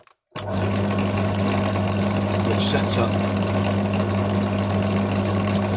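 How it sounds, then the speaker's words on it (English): A small pillar drill hums steadily and shakes a resin mould, starting abruptly and holding an even mechanical drone close by. A voice speaks briefly over it. "I turn my little pillar drill on"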